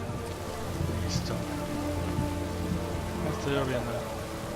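Steady rain hisses throughout in the video game The Witcher 3, with a low continuous rumble beneath and occasional faint higher tones rising over it.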